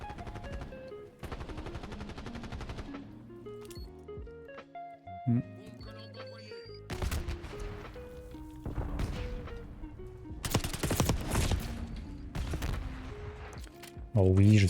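Automatic and single gunshots crackle in bursts during a Black Ops 6 match, loud close volleys separated by short gaps, some sharp impacts, with someone talking in French over the fire.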